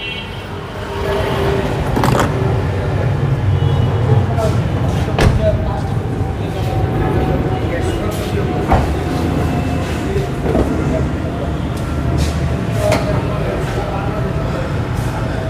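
Steady, loud engine rumble from a used Honda Vezel hybrid with a 1500cc engine, running continuously with faint clicks while people talk nearby.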